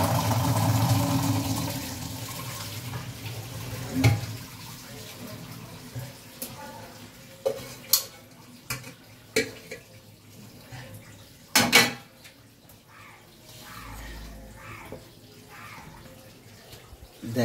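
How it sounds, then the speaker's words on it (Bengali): Water drained from a cooking pot in a home kitchen, a pouring wash at first, then scattered clinks and knocks of the pot, with a voice speaking at times. "এই জলটাও আমি আবার এই ডেচকির মধ্যে দিয়ে আমি ঝরিয়ে দিচ্ছি।"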